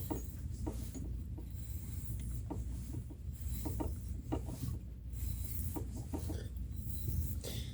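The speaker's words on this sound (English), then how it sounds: "this should tap rather easy, which is what this is doing" Hand tap cutting threads into metal for a Time-Sert thread insert, heard as a close, steady rasping scrape with faint clicks over a low background hum.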